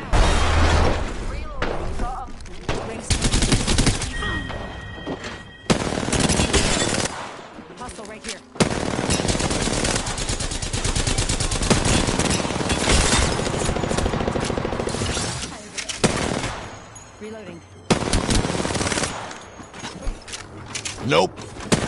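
Gunfire from Apex Legends on the World's Edge map rattles in dense, loud bursts and sustained automatic volleys, broken by short pauses, shattering impacts and game effects.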